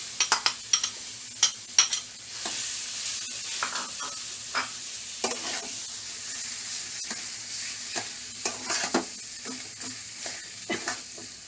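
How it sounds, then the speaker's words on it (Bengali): Boiled potatoes stirred into fried onions in a pan give repeated close spoon scrapes and clicks over a soft, continuous sizzle, with no voices. "এটা আমি এবার ভালো করে একটু নাড়বো।"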